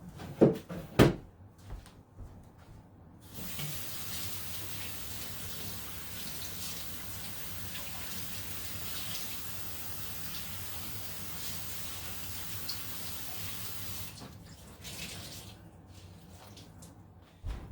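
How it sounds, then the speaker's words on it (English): Kitchen tap water runs steadily for about eleven seconds while a cheesecloth is wetted, bracketed by a few sharp clatters and handling knocks at the start and end, close and fairly loud. "Now I'm going to wet my cheesecloth here."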